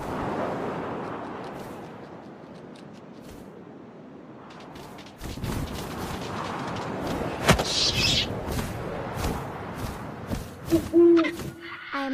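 An owl hoots in the game What Remains of Edith Finch, a brief tone late on over wind and rustling ambience, with louder thumps and rumbling beneath.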